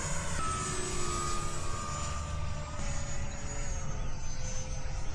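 A radio-controlled model airplane with its landing gear retracted flies over a model airfield, a steady buzzing motor whine with shifting pitch over constant wind and background rumble, moderately close.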